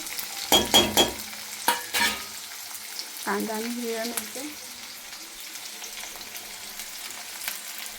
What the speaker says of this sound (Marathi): तर आपलं तेल तापलेलं आहे. आपण टाकूया थोडंसं जिरा, कांदा आणि हिरव्या मिरच्या,